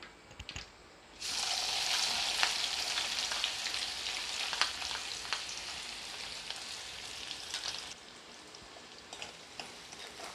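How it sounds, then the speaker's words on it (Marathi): Chopped onion frying in a pan for chicken keema: a loud, steady sizzle bursts in after a second of quiet and holds hissing evenly to the end, with faint crackles and no voices. "कांदा टाकून झालेला आता चांगला होऊ द्यायचा आहे गुलाबी कलर येऊ द्यायचा आहे"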